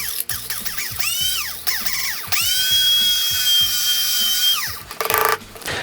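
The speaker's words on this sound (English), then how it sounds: "you want to be in a well ventilated area to go ahead and grind peppers" An electric grinder pulverises dried hot peppers, close and loud, in several short revving bursts whose pitch rises and falls, then one longer steady whine before it cuts off.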